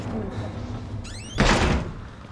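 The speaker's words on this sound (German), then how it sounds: "knall mal die Tür nicht so" A heavy door slams shut in the horror game Outlast, one loud close thud with a short rumble, following a creaking sweep and a voice speaking beforehand.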